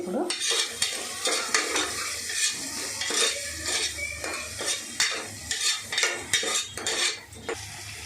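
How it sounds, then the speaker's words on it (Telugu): A spoon scrapes and clatters around a pan of frying curry as turmeric is stirred in, rhythmic metallic strokes over a steady sizzle, close and continuous. "ఇప్పుడు పసుపు వేస్తున్నా."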